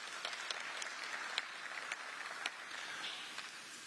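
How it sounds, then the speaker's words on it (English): Crowd applause at the Yutong D14 bus launch in Zimbabwe, a soft, distant patter of many people clapping with a few sharper individual claps standing out, steady for several seconds. "And I think they deserve a round of applause for that."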